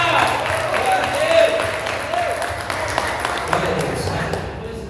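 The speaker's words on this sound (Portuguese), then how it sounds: "Uma salva de palmas para Jesus." A church congregation at a worship service claps in sustained, dense applause, with a voice talking over it throughout.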